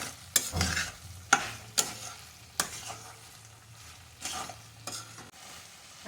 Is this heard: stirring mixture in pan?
yes